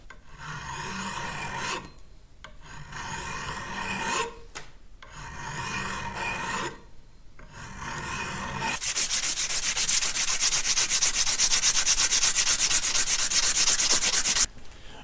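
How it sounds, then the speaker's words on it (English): Rhythmic rasping strokes of a file on a metal shaft, several bursts with short pauses, followed by a long steady stretch of harsh, hissing sanding. "That little bit of filing and sanding you just watched"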